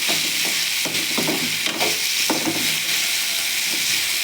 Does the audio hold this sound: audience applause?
no